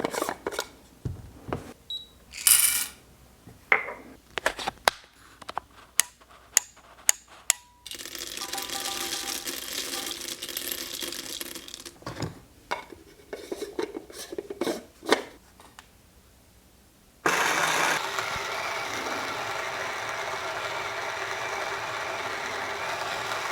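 An Outins Fino coffee grinder crushing coffee beans, steady dense whirring grind in two long stretches, preceded by sharp clicks and knocks of handling, close and fairly loud, no talk.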